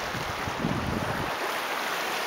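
Ocean water off Hawaii washes in a steady, close rush, heavily mixed with wind buffeting the microphone, with no voices.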